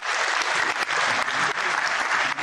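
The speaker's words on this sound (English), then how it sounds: "We give the commandant another round of applause." A lecture audience at a training day gives the commandant another round of applause, loud, dense and continuous clapping from a full room, with slight surges in intensity.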